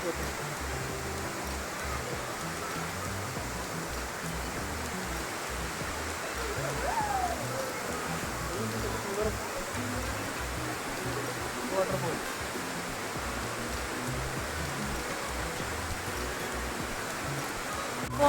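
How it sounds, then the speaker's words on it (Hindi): The Machhakandana waterfall pours as a steady, broad rush of falling water that holds evenly throughout the clip, with no pauses. "ये माछकांदना पूरा वाटरफॉल"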